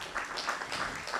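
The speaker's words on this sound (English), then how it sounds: "Please give her a warm round of applause" Warm audience applause at a live music event at the Steve Biko Centre, a continuous, fairly faint wash of many hands clapping without pause and no voices on top.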